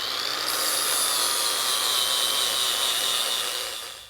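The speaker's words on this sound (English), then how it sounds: "we'll take a grinder, grind a notch here in this mounting flange" Angle grinder grinding a clearance notch into a metal transmission mounting flange on a 1966 Ford Bronco, a steady loud high-pitched whine held for about four seconds before tapering off, with no talk.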